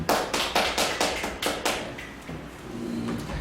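Small audience claps in a clear, steady rhythm of about eight distinct claps, then it fades into a softer wash of scattered clapping and low room murmur.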